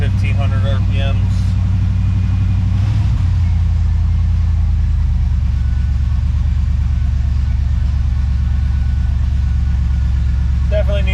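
An OBS Ford F150 truck engine idles high at about 1,500 RPM and sounds due for a tune-up, giving a loud, steady, close rumble that holds unbroken throughout.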